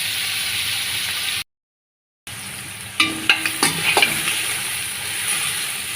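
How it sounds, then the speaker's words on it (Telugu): Onions frying in a pan, a steady close sizzle with a short gap of silence, then a few clattering stirs and scrapes over the hiss. "ఇలా అయితే వేయించుకోవాలన్నమాట ఎక్కువ ఎర్రగా వేయగలిసిన అవసరం అయితే లేదండి"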